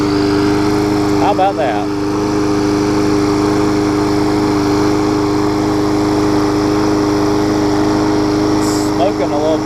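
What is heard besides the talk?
rally lawn mower engine cranking and running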